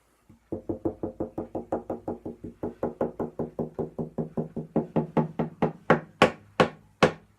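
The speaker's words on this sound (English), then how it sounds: "That clacking is not me knocking. That's actually the sound of wood hitting wood." Loose wood knocking on wood from an open seam on a string instrument, about two dozen sharp clacks in steady rhythm, growing louder and brighter toward the end, close and alone.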